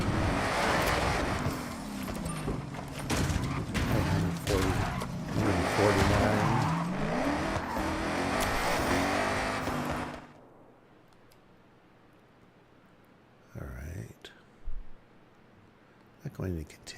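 A drift car speeds along a road in the Forza Horizon video game, its engine roaring loud and steady with tires skidding and squealing, then cutting out to near silence broken by a few short bursts, with someone talking throughout.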